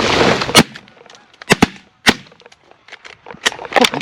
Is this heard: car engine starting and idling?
no